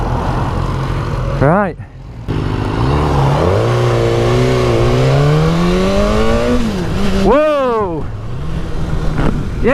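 A 2016 BMW S1000R naked sports bike fires up and revs hard, its engine climbing in a long rising sweep and then spiking through sharp throttle blips, close and loud, with brief speech over it.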